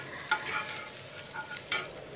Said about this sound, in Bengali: বেসনটাকে কিন্তু খুব ভালো করে ভেজে নিতে হবে